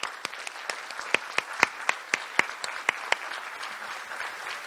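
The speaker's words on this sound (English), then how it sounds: "Let's give everybody a nice round of applause." A small audience at a local election candidate forum applauds, with sharp individual claps standing out over a steady wash of clapping that fades toward the end.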